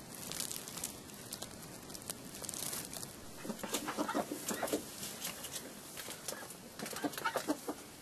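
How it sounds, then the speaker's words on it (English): Chickens cluck and squawk in a cold, snowy chicken coop with ducks crowded inside, a busy mix of short calls rising and falling close by, with no talk. "The ducks have totally invaded the chicken coop"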